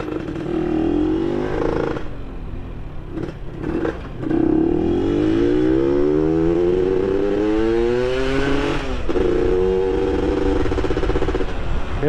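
Motorcycle fitted with an FJP aftermarket exhaust, revved repeatedly up close, with loud rising and falling engine blips and sustained throttle sweeps that are raspy and clattering.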